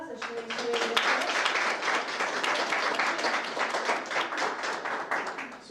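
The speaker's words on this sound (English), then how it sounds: "give her a round of applause as she makes her way to the front." An audience claps steadily for an honored student at a school presentation, a dense, sustained round of applause heard up close for several seconds, with a brief voice at the start.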